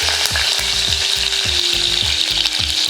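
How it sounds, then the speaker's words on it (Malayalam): Garlic sizzles in hot sesame oil in a pan for Kerala mango pickle, a loud, steady frying hiss that runs throughout, with no voices. "ചൂടായ എണ്ണയ്ക്കകത്തോട്ട് ഈ വെളുത്തുള്ളി ഇട്ട് കൊടുക്കുകയാണ്."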